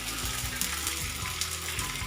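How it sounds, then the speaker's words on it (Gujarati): Edible gum fries in hot oil left over from frying muthiya while churma ladoo are being made, giving a steady, close, crackling sizzle throughout with no talking. "મુઠિયા તળાતા તો એની અંદર જ આપણે ગુંદર તળી લેવાનો છે"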